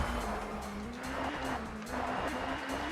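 A touring car spins out during a race in TOCA Touring Car Championship at Snetterton, its engine droning steadily with a sustained tire squeal and skid noise, loud and close, with no talk.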